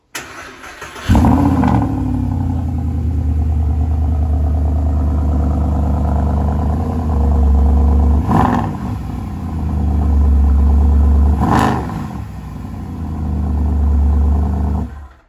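A Mercedes SLS engine fires up with a loud bark, then settles into a deep, steady idle broken by several sharp throttle blips and a longer swelling rev near the end, heard up close with no talking.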